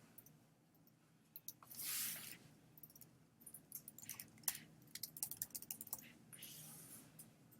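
Keyboard typing on a computer, a quick run of light irregular clicks with a brief whooshing burst before it, fairly quiet and close with no talking.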